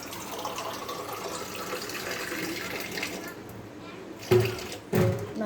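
Water pours into a small glass in a home kitchen while making corn upma: a steady, soft trickle and splash running for several seconds, then two brief louder bursts near the end.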